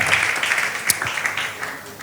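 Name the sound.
audience applause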